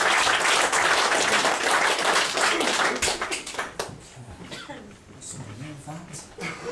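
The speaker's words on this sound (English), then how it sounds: "Give him a round of applause as he makes his best work" Audience at a magic show applauding a volunteer, dense clapping for about three seconds that breaks into scattered claps and then gives way to someone talking.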